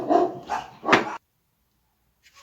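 Dogs bark close by in a quick burst of three or four yelps, followed by near silence with a faint noise at the end.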